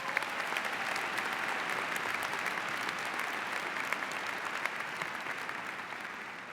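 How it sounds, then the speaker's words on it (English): A convocation ceremony audience gives a long, even round of applause, dense and sustained clapping that fades slightly toward the end. "Let's give everybody a big round of applause."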